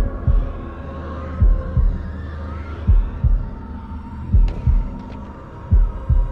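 A heavy, echoing heartbeat pounds in the horror video game House of Ashes, with paired low thuds repeating steadily over a droning hum, loud and close with no talk.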